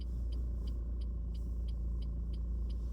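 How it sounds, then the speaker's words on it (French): Garbage truck rumbling outside, a steady deep low drone with a faint periodic high beeping repeating about every third of a second over three seconds. "Oh non, il y a le camion poubelle."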